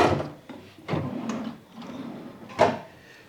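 Wooden drawers in a hotel room slide open and shut, several quick scraping thuds and rolling slides close by, with a sharper knock near the end and no talking.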